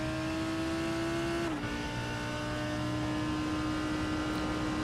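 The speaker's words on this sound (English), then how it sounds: "The Lamborghini sure does sound good in here." Lamborghini Huracan GT3 race car engine in the iRacing sim at Watkins Glen, a steady high-pitched drone with a brief downshift dip, continuous and close, no talking.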